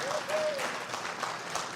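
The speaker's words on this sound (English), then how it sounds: "how about another round of applause for our fabulous musicians and Casper?" Audience applause for musicians at a Sunday service at a spiritual living center, a steady wash of clapping lasting under two seconds, fairly close and full, with a faint voice briefly audible over it.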